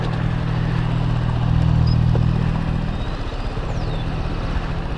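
A motorcycle engine runs steadily at low revs on a forest trail in Ezeiza, a close, constant mid-pitched hum with a slight swell partway through and faint birdsong above.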